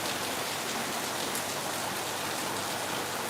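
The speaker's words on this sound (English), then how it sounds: "It's raining heavy, man." Heavy rain pours down in Lagos in a steady, dense hiss with no breaks, loud and close, with no voices.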